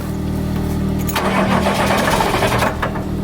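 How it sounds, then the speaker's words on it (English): A diesel engine cranks over steadily, then catches and fires into a rough, loud idle, close by and with no talking. "this is how you start a diesel engine"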